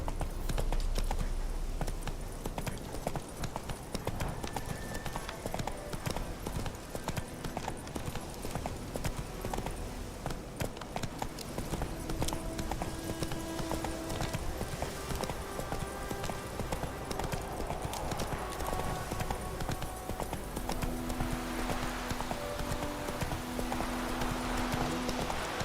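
Horse hooves galloping in The Witcher 3 video game, a fast continuous clip-clop rhythm running throughout, with a faint bit of talk in the background.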